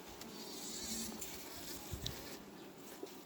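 Honey bees buzz around a hive while a queen is being introduced, a soft, close, continuous droning with a few brief louder passes of individual bees.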